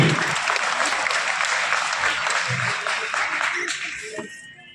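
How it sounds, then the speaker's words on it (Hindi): At a school results ceremony, parents and students applaud in a loud, dense wave of clapping that holds steady, then thins and fades toward the end. "जोरदार ताली बजाएंगे सारे पीछे वाले भी।"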